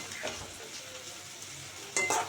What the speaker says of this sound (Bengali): তা আমি নেড়ে চেড়ে দিচ্ছি যাতে পাতিলে না লেগে যায়।